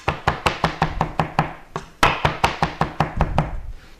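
A knife roughly chops fresh coriander on a cutting board, giving a fast, even series of sharp close knocks, about four per second, with a brief pause midway.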